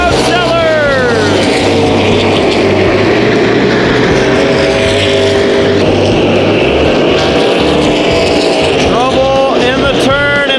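A race car wreck on an oval track during the 2016 season: loud roaring engines and spinning cars, with rising and falling revs under excited commentary throughout.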